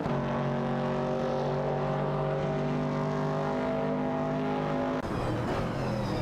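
Camaro 70 and AMC Javelin 70 race cars in a video game, engines droning at a steady high pitch with a sustained tonal whine, shifting abruptly near the end as one car changes gear or passes.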